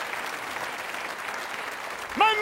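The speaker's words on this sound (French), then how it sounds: "On peut les applaudir, là." Audience clapping at a lively game show forms a soft, steady wash of applause, fairly distant, ending with a brief voice.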